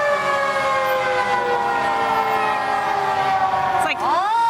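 A fire truck's siren wails loud and close during a Fourth of July parade, holding a long falling tone before sweeping sharply back up.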